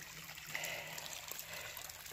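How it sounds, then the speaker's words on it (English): Rain runoff trickles down a hiking trail on Mollies Ridge, a faint, steady watery dribble with soft splashes, heard close and alone. "that's not a stream, that's the trail. Well, that's runoff"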